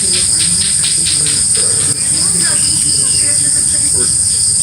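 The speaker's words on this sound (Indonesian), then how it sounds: "Banyak jangkrik ya." Crickets chirp at night in a pulsing, high-pitched drone that runs continuously, fairly loud, with faint background noise and no clear speech.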